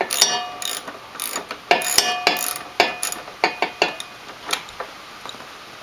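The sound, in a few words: ratchet undoing a bolt on a Honda Shadow motorcycle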